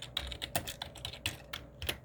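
Close, quiet clicking of computer keyboard keys at an irregular typing pace, with short bursts of keystrokes and faint background hum and no talking.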